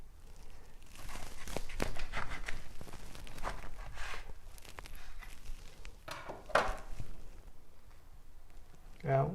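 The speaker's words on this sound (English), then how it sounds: "let's slice into this beauty" Knife slicing through a tandoori omelette sandwich on a board, with a few soft cuts and crunchy rustles spread across the moment, close and fairly quiet under background voices.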